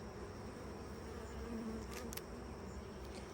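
Honey bees buzz steadily during a backyard beehive inspection, a continuous close drone with a few brief sharp clicks, no one speaking.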